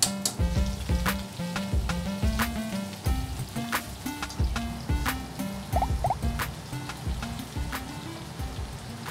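Tuna balls deep-frying in hot oil at a restaurant kitchen, a steady bubbling sizzle with sharp crackles and pops throughout, no talking.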